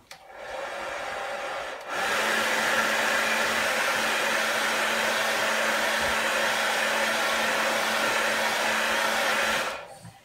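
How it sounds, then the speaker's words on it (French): A hair dryer blows with a steady whirring hum, drying paint on a plastic sheet, switching to a higher, stronger setting after a couple of seconds, then cutting off near the end. "je le sèche au sèche-cheveux."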